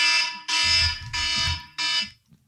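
Electronic alarm beeping in a home, sounding in four loud sustained tones with short gaps, bright and piercing, with a low rumbling undertone beneath the first few bursts.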